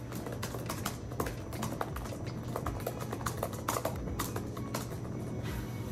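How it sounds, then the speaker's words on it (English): Rapid clicking keystrokes on a Surface Laptop 3 keyboard in sandstone finish, a close, steady patter of light taps running continuously with no talking. "Let me type."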